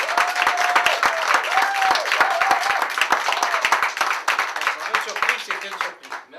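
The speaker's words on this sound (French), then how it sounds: "J'aimerais qu'on l'accueille, qu'on l'applaudisse chaleureusement." An audience gives warm applause at a medal ceremony honoring Denis Naud, dense steady clapping filling the room with a faint sustained tone underneath, loud and close, tapering off at the very end.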